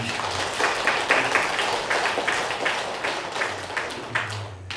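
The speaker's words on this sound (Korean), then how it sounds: "오늘 하나님께 영광의 박수 한번 올리십시오." A church congregation claps together during a Sunday service, a steady, dense patter of hands filling the room for several seconds, with some low murmuring underneath.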